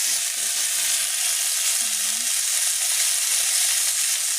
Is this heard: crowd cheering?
no